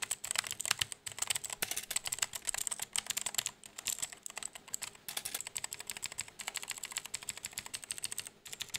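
Fast, steady typing on a Gamdias Hermes P1 gaming keyboard, a dense run of close, crisp key clicks with no talking.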